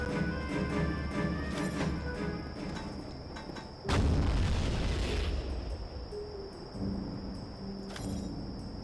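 A rocket launcher fires in the PC shooter Soldier of Fortune from 2000, a loud, deep boom that cuts in abruptly and then rolls into a long rumbling blast over game music.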